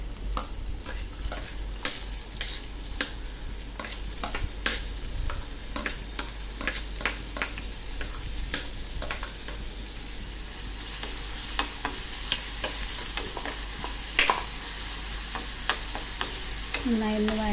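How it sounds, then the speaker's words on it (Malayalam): Chopped onions sizzle in hot oil in a pan, a steady frying hiss with frequent sharp spatter pops and occasional stirring scrapes throughout, fairly close and without talk. "കുറച്ച് ഉള്ളി മുറിച്ചിട്ട് ഞാൻ എണ്ണയിലേക്ക് എടുക്കുകയാണ്"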